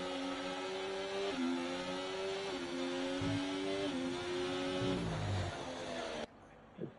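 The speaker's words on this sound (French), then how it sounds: "nous sommes à l'intérieur de la Ferrari" A Ferrari Formula 1 car in a racing video game at the Spanish Grand Prix holds a sustained, whining engine note that rises and dips with gear changes, then cuts off abruptly near the end.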